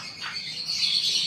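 Small birds chirp and tweet outdoors along a street, a steady, fairly faint chatter of calls that rises a little toward the end, with no voices.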